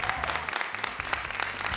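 Studio audience applause on a Chilean talk show, a dense patter of claps from a live crowd with a steady low hum underneath, filling the whole moment without any talk over it.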